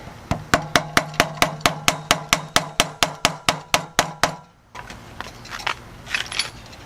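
A hammer strikes a screw on a Honda Ruckus scooter in a fast, even series of about fifteen sharp metallic taps, then stops, followed by faint handling noises.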